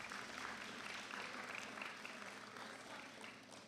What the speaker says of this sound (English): Please give the Sixth Form Association a round of applause.